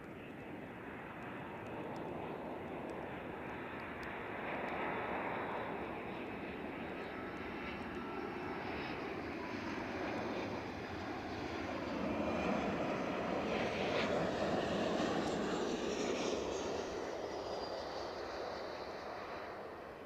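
Aer Lingus and Norwegian jet airliners at Edinburgh Airport: a continuous distant engine roar that swells and eases in broad waves, heard from afar with no speech over it.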